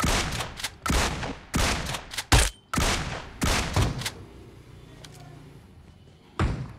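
Repeated gunfire in a video game, loud close bursts of shots in a rough rhythm with short gaps, then a quieter stretch and one final burst.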